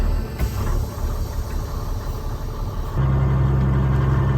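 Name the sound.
old truck engine running during test drive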